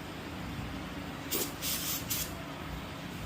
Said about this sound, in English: we're just gonna spray these little areas. Make sure there's no leaks.